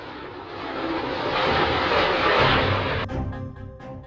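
US C-17 Globemaster military jet transport roaring loudly and steadily as it passes close by, its broad engine rumble swelling midway, then cutting off abruptly into a quieter whining tail.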